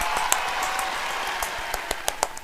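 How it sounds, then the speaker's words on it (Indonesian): Scattered hand claps during a toddlers' church worship class, faint and sparse, with a few sharper claps standing out over a low background hum. "mari kita beri tepuk tangan yang meriah buat Tuhan Yesus"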